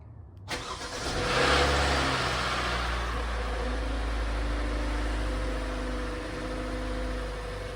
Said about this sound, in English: It's kind of a scary initial startup sound.